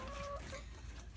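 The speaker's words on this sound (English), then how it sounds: "I do have another white-crested Polish rooster in here." A white-crested Polish rooster in a pen of roosters gives a brief, faint cluck, a couple of soft clipped notes over quiet background hum.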